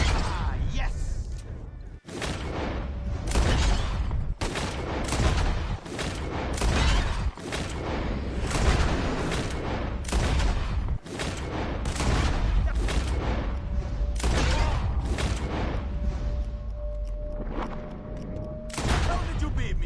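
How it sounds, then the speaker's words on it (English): Gunfire in the video game Red Dead Redemption 2 during a bottle-shooting contest: repeated sharp revolver shots at irregular intervals over continuous game ambience and background music. "Whoever shoots more of these bottles wins. Just draw your gun and aim when you're ready"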